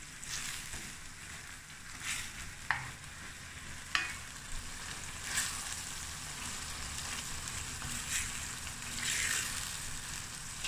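A tuna and egg noodle stir-fry sizzles steadily in a pan while a utensil scrapes and clicks now and then as it is stirred, close up with no voices.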